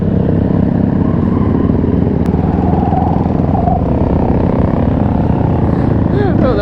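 A Honda dirt bike and a quad race side by side, their engines roaring loud and continuous with a rough, wind-buffeted rumble close to the microphone.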